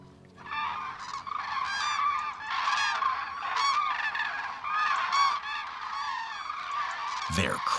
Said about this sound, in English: They're cranes.